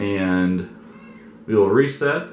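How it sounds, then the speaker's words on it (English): A pet cat meows loudly nearby, one drawn-out meow followed by a rising second one, in a room where a person speaks between the calls. "If you hear a cat in the background, it's our cat."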